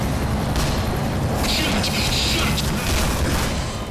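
Bombs exploding in the Black Mesa video game, a loud rumbling barrage of booms with several sharper blasts layered over a continuous roar, heard up close without speech.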